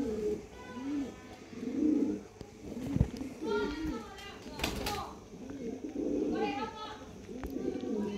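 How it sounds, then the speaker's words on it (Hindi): Pigeons coo repeatedly in soft, rolling phrases close by, mixed with someone talking and children's voices in the background. "है कबूतर है मादा आ गई जी"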